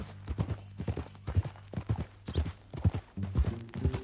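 Horse hooves clip-clop at a steady walking rhythm in the Western video game Red Dead Redemption 2, close and clear, with a short whinny and a faint voice late in the clip.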